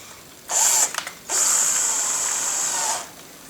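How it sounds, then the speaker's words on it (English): A power drill spins a CNC machine's lead screw inside a slightly binding bearing, running in two loud bursts, a short one and then a longer steady whine of about two seconds, with no talking. "So what I'll do is I'll take a drill"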